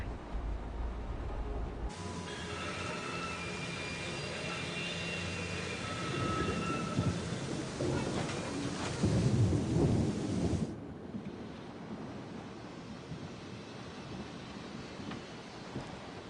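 Thunderstorm with heavy rain in the video game Syberia: The World Before, a steady roar of downpour with a long rolling rumble of thunder swelling midway before the rain cuts off abruptly, no voices.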